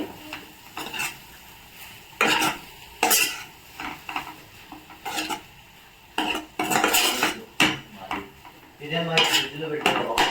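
Smashed potatoes for aloo curry being stirred and mixed in a metal pan, with repeated close scraping and clinking of a spoon against the pan in uneven bursts, no talking.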